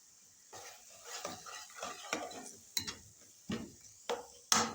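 Brinjal bharta with green chillies cooks in a pan, heard as a series of distinct spatula scrapes and clinks against the metal every half second or so over a faint background hiss, close and moderately quiet.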